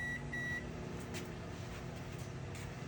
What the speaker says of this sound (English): And I'm gonna put it into my microwave.